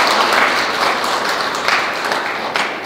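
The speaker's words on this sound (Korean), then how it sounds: "여러분 다시 한번 큰 박수 부탁드리겠습니다" An audience at a volunteer day ceremony claps loudly in dense, sustained applause that slowly fades over a few seconds.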